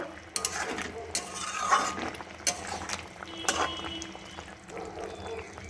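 Boiled cauliflower and potatoes are stirred with chopped coriander in a pot, making soft scraping and clinking of a utensil against the metal in short irregular strokes, close and fairly quiet, with no talking.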